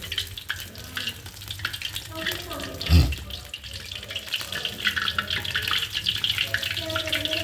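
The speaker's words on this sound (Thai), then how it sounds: "อันนี้ผมทอดได้ทีละชิ้น" Battered red shrimp frying one piece at a time in hot oil, a steady bubbling sizzle with a brief thump from dropping a piece in.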